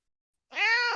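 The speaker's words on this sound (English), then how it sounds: "I got a cat beside me right here." House cat giving a single short, clear meow close by, starting abruptly after silence.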